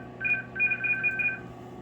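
An FSK signal from a Harris RF-3466A HF modem sounds as two alternating steady tones in quick bursts, broken by a short gap, fairly quiet over a low hum.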